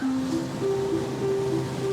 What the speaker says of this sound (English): Hope you can hear me above these waves. This is incredible. These waves are coming in.